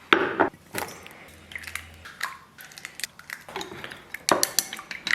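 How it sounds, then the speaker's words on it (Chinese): A knife slices two small sausages diagonally on a board, giving several sharp, irregularly spaced chops and taps close by, with no talking. "接下来来2个小香肠啊，然后咱们给它切成斜刀片儿。"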